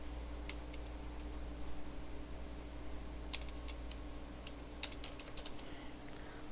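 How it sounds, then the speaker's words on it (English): Light, quick key clicks from someone typing "msconfig" on a Windows 7 computer keyboard, in a few short bursts over a steady low hum, quiet and close, with no voices. "you have to click on start button, type msconfig"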